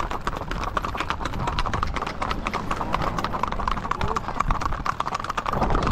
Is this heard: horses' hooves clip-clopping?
yes